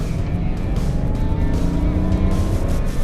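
A naturally aspirated car engine revs hard under acceleration, a loud, steady full-throttle drone with rising harmonics and no pauses, heard close from inside the car.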